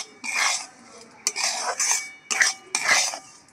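A metal spoon scrapes a pan as semolina is stirred and roasted in ghee for a mango and semolina halwa, with four distinct close scraping strokes separated by short pauses and no talking.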